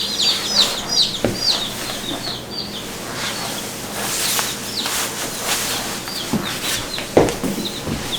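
Backyard chickens at a coop during cold Minnesota weather cluck and chirp in quick, scattered bursts, fairly close, over a low background hum with no talking.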